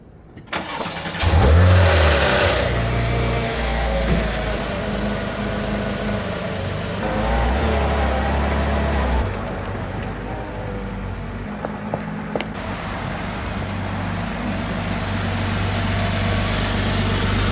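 A car's 4.0 engine turns over and catches, then idles and warms up for a long stretch with a steady low rumble, a couple of mild revs, and small mechanical clicks near the end.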